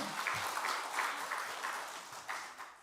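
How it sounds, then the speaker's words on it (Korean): Applause from a church congregation during a Sunday service, a steady wash of many hands clapping that fades slightly toward the end, with no speech over it. "좀 박수 좀 쳐줘요."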